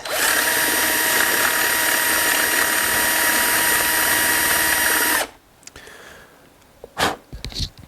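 Power drill cleaning up a freshly drilled hole in a hobby workpiece, a loud continuous whirring buzz for about five seconds that cuts off abruptly, followed by a few faint clicks and handling knocks.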